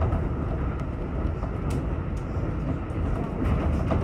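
Steady, loud rumble of a train ride in Tokyo, continuous rail and carriage noise filling the whole stretch without interruption.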